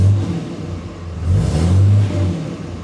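Third-generation Cummins diesel engine, a truck with a clogged fuel pickup sock and low fuel pressure, rumbling at idle then revved up briefly and settling back, close by and without talk.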